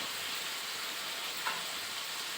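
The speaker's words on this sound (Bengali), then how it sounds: "আনাজটাকে ভালো করে কষতে হবে" Chopped vegetables sizzling steadily as they are sautéed in a pan for Bengali cooking, a soft continuous frying hiss with one faint clink, no talk.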